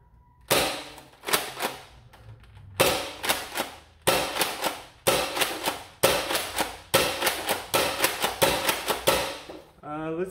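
An XShot Turbo Advance toy dart blaster firing through a chronograph: about ten sharp snapping shots in an uneven, fairly quick rhythm, each with a short rattling tail, close and loud with nobody talking.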